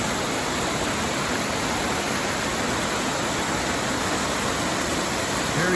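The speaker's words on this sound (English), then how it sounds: "I think this must be the waterfall I'm supposed to see" Steady, loud broadband rush of a waterfall next to a rain-dampened hiking trail by a river in Oregon's Wallowa mountains, a constant roar with no break and no talk.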